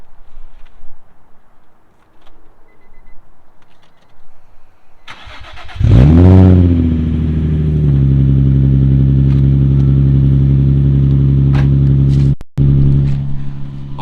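A 2004 Nissan 350Z with a Megan Racing axle-back exhaust cranks and fires up with a loud burst, then settles into a deep, steady idle through the exhaust, briefly cutting out once.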